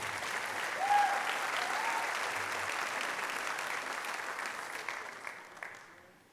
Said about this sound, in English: Let's have a round of applause for our scholarship recipients.